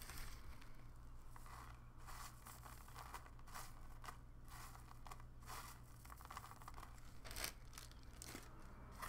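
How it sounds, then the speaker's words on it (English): Twisted tissue paper sticks rustle and crinkle steadily as they are handled for a tissue paper art piece, with scattered crunchy crackles and a brief sharper crinkle near the end over a low steady hum. "I love the sound that these paper doodles make."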